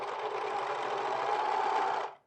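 A sewing machine finishes a raw edge on a pair of men's pants, its needle running in a steady, quiet, even whir for about two seconds before stopping abruptly.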